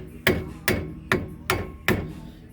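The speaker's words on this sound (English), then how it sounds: "you need to pop your dust cap off" Five evenly spaced, sharp metallic taps sound close by as a wheel hub dust cap is knocked loose on a 1991 Chevrolet Caprice during a brake job.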